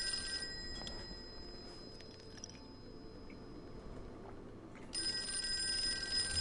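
A telephone rings in a video game, a repeating electronic ring heard at the start and again near the end over a steady low background hum.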